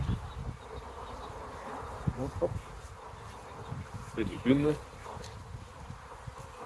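Honey bees buzzing steadily around an open hive at an apiary while a beekeeper works, a constant insect drone under brief spoken remarks, handling noises and rustling.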